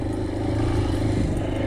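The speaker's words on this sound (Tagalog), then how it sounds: "Dito may motor oh." A motorcycle engine hums on a rural inter-town access road near San Jorge, Samar, a steady, close droning note that holds evenly through the short moment.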